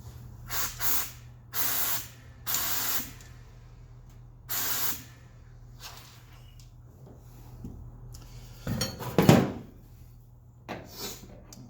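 Compressed air blows through the lines of an IMCA Modified race car being winterized, coming as several short loud bursts of hiss with a rattling check valve, ending in a louder spluttering burst near the end.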